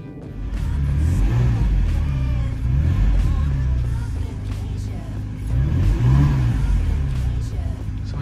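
A Ferrari engine idles and revs just after start-up, the car having sat unused for months, with throttle blips rising and falling over a steady close running drone, mixed with faint talk.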